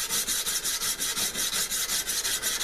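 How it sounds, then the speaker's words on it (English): Steady, rhythmic rasping strokes of hand sanding a knife blade with coarse grit, close and fairly loud, repeating about five times a second with no talking. "aggressive sanding like this"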